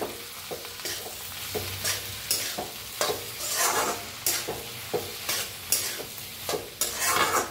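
Masala bhindi with peanut, sesame and coconut powder being stirred in a pan, a quiet run of repeated rhythmic spatula scrapes over a low sizzle, close up with no voices.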